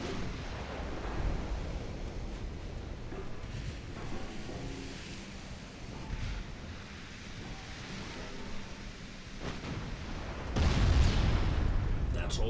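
Warship main guns fire in the Ultimate Admiral Dreadnoughts naval game, heavy low booms rolling under a constant sea-like wash, with a larger blast swelling near the end; fairly quiet overall.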